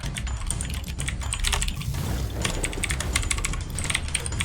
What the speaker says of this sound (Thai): ได้ยินเสียงคีย์บอร์ด